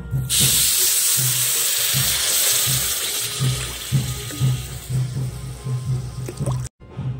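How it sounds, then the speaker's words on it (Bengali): Water pours steadily onto sugar in a pan while syrup is being started for pantua, a continuous close splashing hiss lasting several seconds before stopping abruptly near the end. "এখানে চিনি দিয়ে দেব, এখন জল দিয়ে দেব।"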